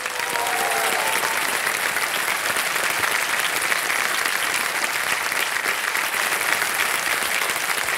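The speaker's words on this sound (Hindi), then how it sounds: "तालियां बज जाए इनके लिए।" Studio audience applause on the KBC television quiz show, a dense, continuous roar of many hands clapping at steady loudness for about eight seconds, with no talk on top.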